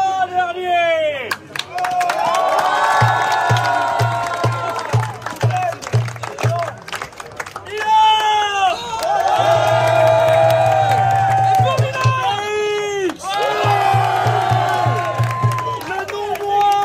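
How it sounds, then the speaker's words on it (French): A crowd at the International 1,2,3 Fart Championship during the FLIP 2024 festival in Parthenay cheers and applauds the final three contestants. Loud bursts of whooping and clapping rise and fall in waves, with voices shouting throughout. "je voudrais, s'il vous plaît, un tonnerre d'applaudissements pour les 3 derniers."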